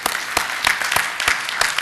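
Audience applause at a conference opening session, a dense steady wash of many hands clapping at even loudness with a few sharper individual claps standing out.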